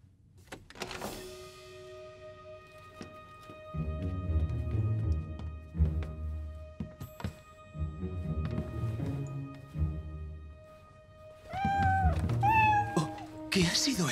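Cats meow repeatedly in an animated Heidi cartoon, with short cries scattered among music and voices. A cluster of higher, rising meows comes near the end.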